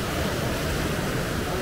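Ocean waves wash against the shore at Las Palmas, Gran Canaria, a dense, steady broadband roar that holds for the whole moment, near and fairly loud.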